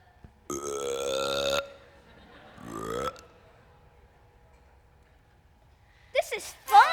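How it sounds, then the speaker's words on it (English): Long, drawn-out vocal burps from a performer on stage in an elementary school production of Willy Wonka Jr, two drawn-out belches followed by short bursts of voice in an otherwise quiet hall. "Burp."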